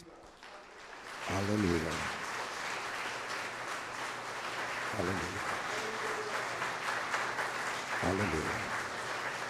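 A church congregation applauds steadily throughout, a loud, dense wash of clapping while a voice calls out over it three times in praise.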